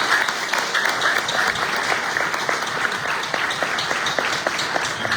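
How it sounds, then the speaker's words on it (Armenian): A church congregation applauding a united choir: sustained, dense clapping from many hands at medium distance, steady throughout. "ծափահարությունները, գնահատանքի ծափահարություններ են ձեզ"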